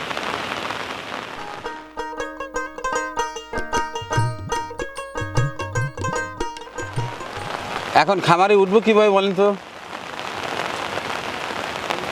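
Rain falls on a poultry farm as a constant hiss that runs under a sustained tonal sound and then a voice before the steady downpour returns on its own.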